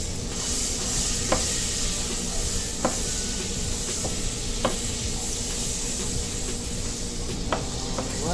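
Butter melting in a hot pan on a turned-down burner, a steady close sizzle and hiss with occasional clicks and scrapes of stirring.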